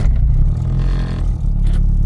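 An Acura Integra engine runs just after firing up, with a loud, close, steady idle rumble and a slight rev rise near the end, heard alone without speech.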